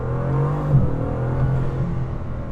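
A Bugatti Chiron's engine drones and whirs steadily from inside the cabin, a low sustained roar with slight pitch shifts as it pulls, no voices.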